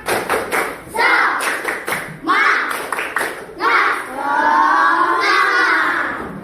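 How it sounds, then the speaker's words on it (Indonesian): Children in a classroom clap their hands in short rhythmic bursts, a few quick claps at a time with brief pauses, followed by a longer sustained stretch of clapping. A teacher's voice occasionally speaks between the rounds. "Tepuk tangan."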